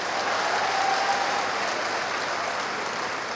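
Sustained applause from an audience at an institute of technology and science event in Gwalior, a dense, even clapping from many people lasting a few seconds at a steady level, without speech.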